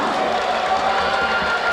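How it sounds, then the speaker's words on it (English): A packed crowd at a crosstown-rivalry basketball game reacts to a blocked shot in the third quarter, a steady, dense roar of many voices with cheering mixed in that holds evenly throughout. "And the crowd, one side of the crowd loves that, the other side hates it"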